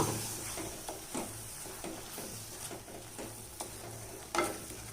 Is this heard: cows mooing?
no